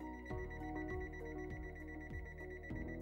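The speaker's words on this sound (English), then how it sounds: "until the display turns off and starts beeping." A repeating electronic alarm melody beeps in a regular, quick rhythm, with descending tones cycling over and over, close and clear.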